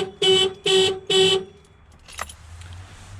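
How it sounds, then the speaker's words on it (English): A car alarm on an old wagon sounds three loud, evenly spaced horn blasts, then cuts off, leaving a quieter clatter and low background rumble. "my alarm went off"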